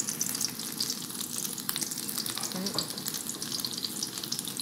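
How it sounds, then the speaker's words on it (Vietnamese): Vegetarian mock fish fries in a pan on low heat for a meatless tomato-sauce dish, giving a steady, close crackling sizzle with no voices. "Khi mà các bạn để cá vô á, thì các bạn chiên nó lửa hơi nhỏ lại"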